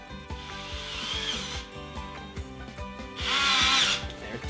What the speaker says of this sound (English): I'm just gonna pop down 2 of these screws, the same screws we've been using